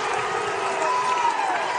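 Crowd at a women's college basketball game in a West Virginia arena, Big 12 matchup against Texas Tech, cheering steadily as a dense, sustained roar with a few whistles rising out of it.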